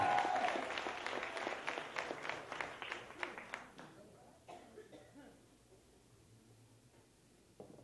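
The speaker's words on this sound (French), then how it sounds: "On l'applaudit." An audience applauds a local singer-songwriter at a small televised music showcase, with brisk clapping up front that thins and fades away over several seconds, leaving a few scattered sounds.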